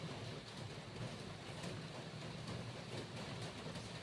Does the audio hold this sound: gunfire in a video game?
no